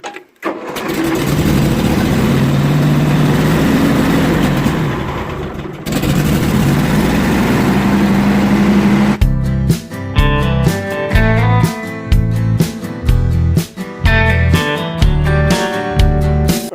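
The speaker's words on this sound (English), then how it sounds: "So go and get the tractor and let's get it done." An old tractor engine cranks and catches, then runs steadily at a loud, close idle, shifting later into a pulsing, rhythmic chug with no one speaking.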